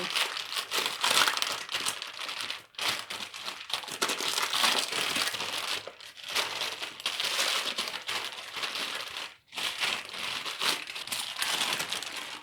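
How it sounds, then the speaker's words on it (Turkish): Parchment paper crinkles and rustles steadily as it is peeled away from a cream-filled rolled sponge cake, close and continuous with a few brief pauses and no talking. "Bunu da yağlı kağıttan kurtararak dürün."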